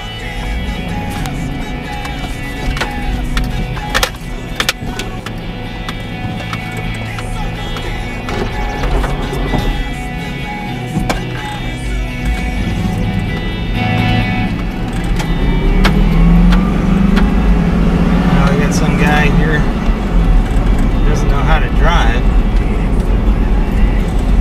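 Car setting off for a drive, with a steady engine drone and road rumble heard from inside that builds toward the end. People talk over it.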